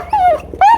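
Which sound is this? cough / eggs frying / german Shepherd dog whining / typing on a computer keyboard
german Shepherd dog whining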